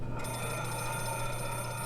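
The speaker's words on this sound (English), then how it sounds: "The phone? Oh, it's not for me." A telephone rings in a Jack the Ripper adventure game, a steady electronic bell tone with sustained harmonic ringing that starts almost immediately and continues alone for about two seconds at moderate loudness.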